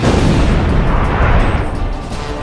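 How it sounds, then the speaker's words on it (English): A loud, sustained missile-hit explosion from the Ace Combat 5 jet combat video game: a dense, roaring blast that fills the clip and fades only slightly toward the end. "Fox 2, Fox 2. Missile hit."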